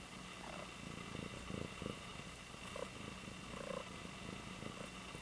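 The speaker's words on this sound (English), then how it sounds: "Oh yeah, listen to that purring." A cat purrs steadily and close, a soft continuous rumbling drone with faint rhythmic pulses over low background hiss.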